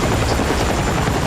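A helicopter in a video game thrums loudly and continuously, its rotor noise filling the scene close up with no pauses.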